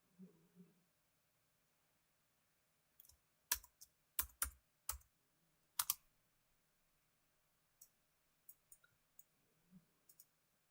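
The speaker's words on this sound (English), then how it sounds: "Oh, Joy, you can hear me typing." Laptop keyboard typing comes in scattered bursts of sharp, close clicks, separated by quiet gaps, with faint low murmurs at the start and end.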